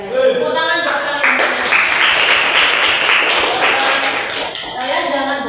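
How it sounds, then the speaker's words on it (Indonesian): A classroom of vocational high school students claps for the class, steady loud applause from many hands close by, continuing for several seconds before tapering off. "Tepuk tangan buat kalian."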